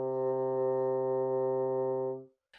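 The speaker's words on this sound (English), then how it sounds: "C sounds like this" A bassoon sustains a single low C, steady and loud, with rich stacked harmonics, held for about two seconds before stopping cleanly.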